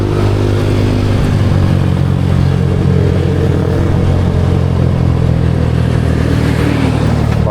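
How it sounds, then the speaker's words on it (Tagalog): Motorcycle engine running loud and close, a steady dense drone with no pauses and no talking over it. "Ganyan yung unang motor ni Idol na sniper na bininta niya kay Regondox"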